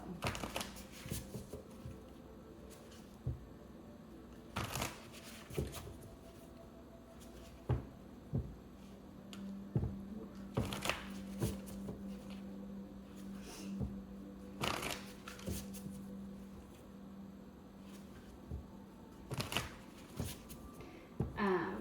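Tarot cards being shuffled in a quiet room, with repeated soft riffling bursts and light card taps at irregular intervals, close and fairly faint, with no talking.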